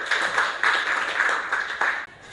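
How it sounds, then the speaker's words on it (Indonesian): A classroom group claps for a student group presenting, a short burst of steady, fairly loud applause from many hands. "tepuk tangan untuk kelompok 1."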